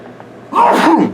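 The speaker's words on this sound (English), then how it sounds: "I sneezed." One sharp, loud sneeze bursts out after a brief quiet intake of breath, close and sudden.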